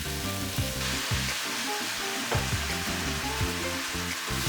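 Rice noodles with sauce and garlic stir-fry in a pan, giving a dense steady sizzle with repeated scraping and tossing strokes at an even rhythm, close up and without talk.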